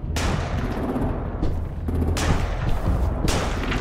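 Gunshots ring out in The Walking Dead: Final Season video game, three heavy booming reports about a second apart, each trailing into a rumbling echo, loud and without talk.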